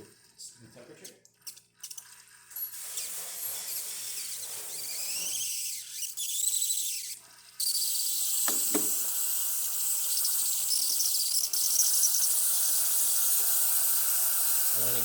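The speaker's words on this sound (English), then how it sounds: "Steaming shoots a little bit of water out beforehand." A Breville Barista Express steam wand hisses and sputters as it spits water while its thermal block heats, then settles into a loud, steady stream of steam that runs for most of the clip.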